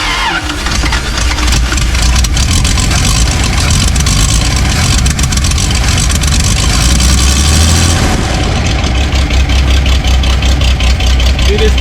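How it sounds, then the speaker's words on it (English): An old Toyota FJ55 Land Cruiser engine with a leaking fuel pump idles loudly and roughly up close, a steady rumbling chug with a brief rise in revs near the end. "Dude, this thing is idling."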